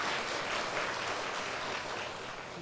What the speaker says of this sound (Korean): 찬양대를 위해서 한번 박수하시고요.